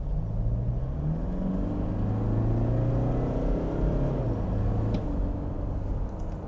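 A 2024 Toyota SW4 Diamond 4x4 seven-seat SUV in Sport mode speeds up hard, its engine a steady rising rumble and whir heard from inside the cabin, with no talking.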